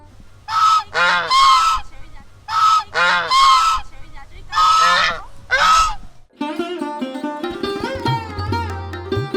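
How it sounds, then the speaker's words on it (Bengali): Geese and ducks on a sacred pond beside a Hindu temple, honking loudly and close in repeated bursts of harsh calls for about six seconds, then giving way to background music. "এই পবিত্র পুকুরে হাঁস রাজহাঁস এবং তার সাথে রয়েছে দুটি বোট"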